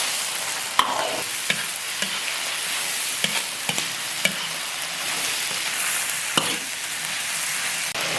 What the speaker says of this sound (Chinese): 猪肝腌好了，上锅炒。